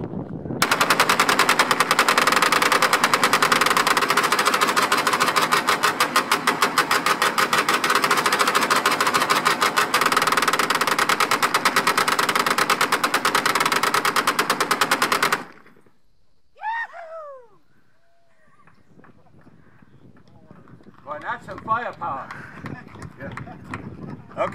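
Twin M1919 .308 caliber machine guns fire 100-round belts in a loud, continuous rapid burst lasting about fifteen seconds, then stop abruptly. Brief voices and faint movement follow in the quiet.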